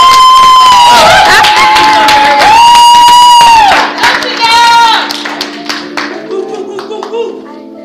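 An audience at a live cover performance of a song claps and cheers loudly, with whoops and shouts that fade into scattered claps and chatter.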